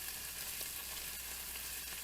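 Margarine melts in a pan for clam chowder, giving a steady, even sizzle that is faint and continuous with no other sounds and no talking.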